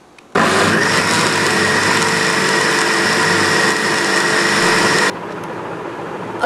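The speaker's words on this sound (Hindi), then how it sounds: "फिर से मिक्सी को चलाएंगे।" Kitchen mixer grinder churning mango cream with cold water to make butter: a loud, steady high-pitched motor whir that starts abruptly and runs for about five seconds before dropping to a lower hum.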